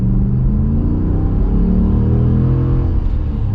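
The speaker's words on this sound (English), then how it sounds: "now we're going to get an acceleration." A 2020 Ram 1500 Warlock pickup accelerates, a loud, deep, steady engine rumble heard from inside the cab with no talking.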